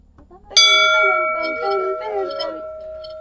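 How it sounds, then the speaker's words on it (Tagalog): A bell rung for a wish on Limasawa Island in Leyte sounds one bright, close strike that rings on and slowly fades, while voices talk over the lingering tone. "Say your wish and ring the bell."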